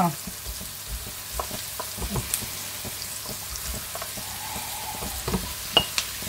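Potatoes frying in a pan make a quiet, crackling sizzle with scattered pops and soft stirring scrapes, fairly close and low in level.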